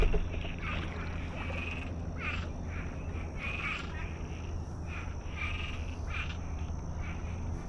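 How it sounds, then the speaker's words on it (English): Toads croak in a pond with lily pads and cattails, their rhythmic trilling bursts repeating every second or so over a constant outdoor background hum, with no voices present. "Those are toads."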